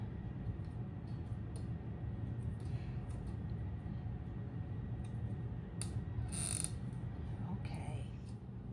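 A quilter's magnifying lamp arm is adjusted and lowered, giving faint creaks and scattered mechanical clicks with a brief sharper squeak near the end, over a low steady room hum.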